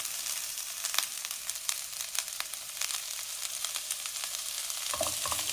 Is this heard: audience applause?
no